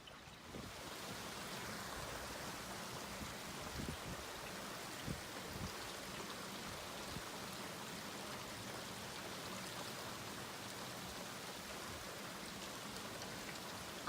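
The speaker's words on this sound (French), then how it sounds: "Ah, il pleut beaucoup, hein." Heavy rain pours outdoors during storm Fabien in Charente, a steady wash of dense drops drumming on surfaces with a few louder spatters and no voices.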